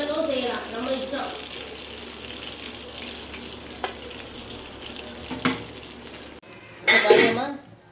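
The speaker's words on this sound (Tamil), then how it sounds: "பாருங்கம்மா நல்லா இப்படி அழகாக பொரிஞ்சு சூப்பராக வருது" Chicken tikka frying in butter in a home kitchen pan gives a quiet sizzle, with brief clatters of utensils and a louder burst of splashing near the end.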